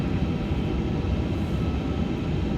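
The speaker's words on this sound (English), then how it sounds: "we've got 2 good engine starts" Airbus A350-900 jet engines running steadily in a flight simulator game, a continuous loud low roar and rumble with no break and no voices over it.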